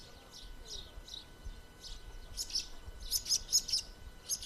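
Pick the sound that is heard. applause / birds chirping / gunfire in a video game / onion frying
birds chirping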